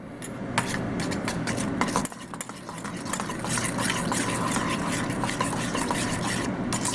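A marinade with black pepper for Chinese barbecue baby back ribs is mixed in a dense, continuous churning and scraping, close-up, with a faint background hiss and no speech.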